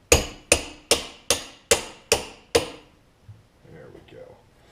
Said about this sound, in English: This we're going to have to give a few taps with our hammer.